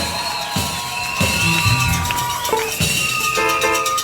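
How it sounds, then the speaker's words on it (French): A wedding congregation at a church consecration erupts in loud cheering, whoops and shouted acclamation, with high ululating cries and bursts of crowd noise surging and falling over several seconds. "je vais écouter des grandes acclamations"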